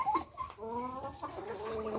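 Chickens cluck at feeding time, with a close, fairly quiet run of rising and falling clucks and calls lasting about two seconds, mixed with a little faint background talk.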